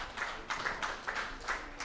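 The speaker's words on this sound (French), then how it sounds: "Applaudissons pour Jésus-Christ." A church congregation claps in several short bursts at a healing service, the applause fairly faint and distant, rising and falling in waves with no talk over it.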